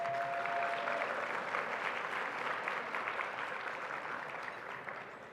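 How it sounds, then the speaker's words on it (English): Audience applause at a human rights awards show, steady clapping across the room that gradually fades over about five seconds. "Let's give them all a round of applause."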